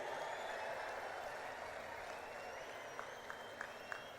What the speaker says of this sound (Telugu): నరేంద్ర మోడీ గారికి గట్టిగా చప్పట్లు కొట్టి స్వాగతం పలకండి